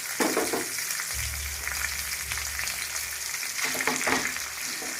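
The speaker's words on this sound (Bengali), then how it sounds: "এই যে এখন এটাকে ভালো করে ভেজে নিতে হবে, যাতে পুরো ভাজা হয়ে যায়।" Potol paturi fries in a pan with a steady, dense sizzle, broken by a few soft scrapes of stirring.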